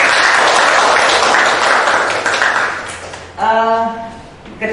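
Applause from students in an online inspiration class, a broad wash of clapping that fades after a few seconds before a voice starts speaking over it.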